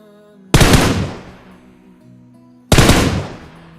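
Two single gunshots in the PUBG Mobile game, each a sharp loud crack with a decaying tail, spaced about two seconds apart.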